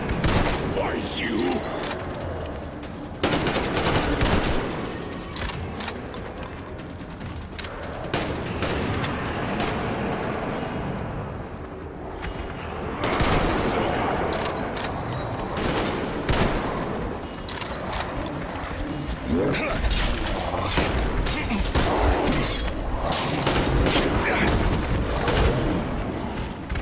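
Gunfire against mutants in Metro Exodus erupts in repeated bursts of shots and booms across a dense, noisy battle, with voices talking in between.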